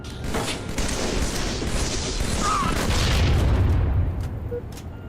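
Missile and grenade explosions rumble through a shooter video game, a dense, continuous booming barrage of gunfire and blasts with a faint voice underneath.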